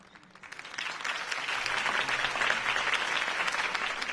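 Crowd applause rising after Harvey Dent's campaign speech in a Batman video game, a dense, steady wash of clapping that swells from a soft start and holds loud to the end.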